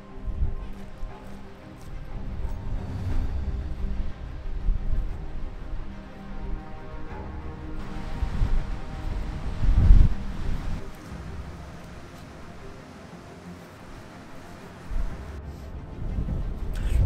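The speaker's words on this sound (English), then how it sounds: "To say that it's windy is a bit of an understatement" Strong gusty wind at the seashore roars and buffets the microphone throughout, with low rumbling swells and a few louder blasts, and no voices.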